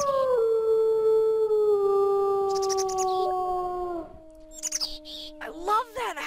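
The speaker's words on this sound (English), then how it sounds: "I love that howl, man! That was so loud and awesome!" Wolf howling in the video game Wolf Quest, a loud, long, sliding howl that falls gradually over about four seconds, followed by shorter yelping calls and chirpy cries.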